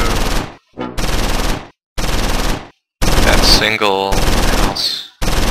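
Machine-gun fire in the Close Combat 5 wargame's Battle of the Bulge mod, loud repeated bursts separated by short gaps, with someone talking briefly over the shooting.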